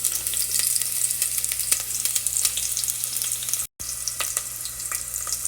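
Chopped onions sizzling in a pot while making spicy crawfish, a bright steady crackling hiss close by, broken by a brief silent gap midway.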